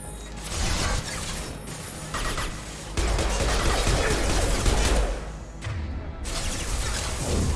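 Video game gunfire from Mass Effect 2 pelting a player's shields: a dense, continuous hail of rapid shots and metallic impacts, loud and steady with brief dips, no talking over it.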